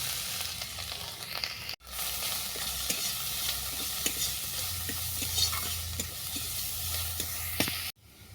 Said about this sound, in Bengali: জিরেগুলো ভাজা হয়ে গেছে। এরপর ফুলকপিটা দেবো।